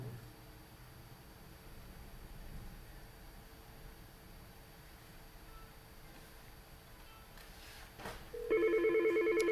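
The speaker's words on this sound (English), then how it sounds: "So now there's a second call ringing" An iPhone rings for a second incoming call near the end, a steady electronic tone beginning suddenly after a stretch of low background hiss.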